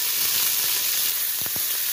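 Sliced onions frying in a pan with mint and coriander leaves just added for a chicken biryani, a loud steady sizzle with a couple of soft stirring knocks near the end.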